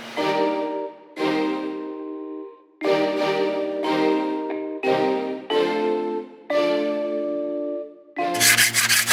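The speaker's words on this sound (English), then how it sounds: "A lot of scraping, a lot of sanding." Repeated rasping strokes, each about a second long with brief pauses, as a hauled-out sailboat's hull bottom is sanded and scraped up close.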